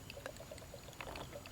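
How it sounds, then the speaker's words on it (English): Water pours into vinyl tubing as a quiet, steady trickle with faint bubbling gurgles spread across a short stretch, with no voices. "I'm going to fill it with water"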